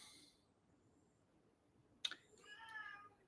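A domestic cat meows for fresh water, one short faint call followed by a brief drawn-out cry in an otherwise quiet room.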